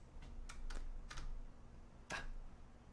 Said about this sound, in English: and I'll just type it in here.